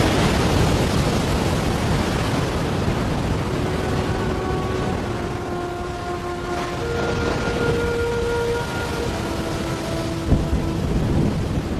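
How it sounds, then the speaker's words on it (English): Edge of a full-blown tropical cyclone at sea off Christmas Island: a continuous heavy roar of wind and rain with a low rumble, steady throughout, with faint sustained tones beneath. "Christmas Island has caught the edge of a full-blown tropical cyclone."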